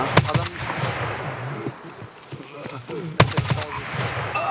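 Gunfire in Escape from Tarkov: two sharp bursts of rapid shots crack out, one near the start and another around three seconds in, amid a noisy background and voices talking.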